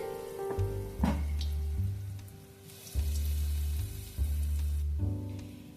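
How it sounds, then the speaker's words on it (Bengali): Poppy seed and lentil fritters frying in hot oil, a steady loud sizzle that swells each time fresh batter is spooned in, with a few soft clinks of a spoon and no talking. "আমি একটা চামচ করে বড়াগুলোকে ভাজার জন্য দিয়ে দিচ্ছি।"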